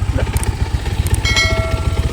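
A motorcycle engine idles nearby in a cashew orchard with a low, regular chugging pulse and some mechanical rattle on top.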